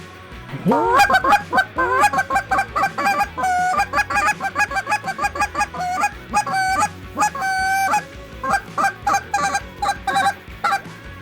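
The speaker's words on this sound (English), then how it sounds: "It's what we're doing with the goose call." A Canada goose call is blown by hand in rapid, rhythmic series of loud honks and clucks, close and clear with no talking.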